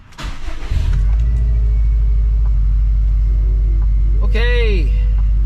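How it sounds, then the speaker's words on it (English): A Subaru STI engine cranks and catches after a fuel pump install, settling into a loud, steady idle rumble, with a brief whining squeal near the end. "So let's see if it'll start."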